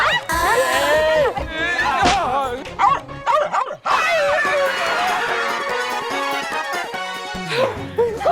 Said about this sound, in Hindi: तुम्हारी हिम्मत कैसे हुई घर में कुत्ता लाने की?